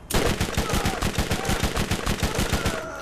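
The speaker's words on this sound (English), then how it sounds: "This SMG ain't bad, you know." An SMG fires in rapid bursts in the video game Borderlands, a fast, loud run of evenly spaced shots that continues for nearly three seconds before it stops.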